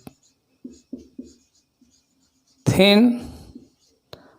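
Marker or chalk strokes on a classroom board while writing a chemistry formula for an amine, several short scratchy bursts at a steady pace, followed by a brief loud noise and faint room sound.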